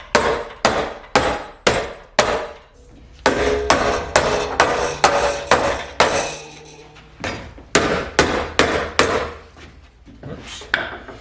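Loud, sharp metallic hammer blows in quick bursts of several strikes, separated by brief pauses, ringing close up, as sheet metal is rolled over a metal edge for a rocker patch on a Mercedes 300 SEL 6.3.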